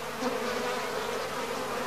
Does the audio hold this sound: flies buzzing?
yes